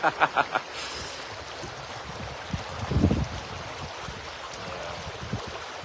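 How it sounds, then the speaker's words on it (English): A river flows in a steady, soft rush of moving water, with a few quick knocks at the start and a brief gurgling swell midway, gentle and continuous with no talking. "Just enjoy the sounds of the river."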